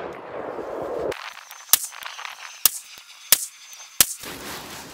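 Four sharp, loud gunshots from a PSA Sabre semi-automatic rifle in .308 fire at irregular intervals about a second apart at an outdoor range, with wind noise before and after.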